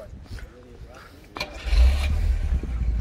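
A 1988 Lada 1500 S, front-engined, cranks briefly and starts, settling into a steady low idle, with people talking nearby over it.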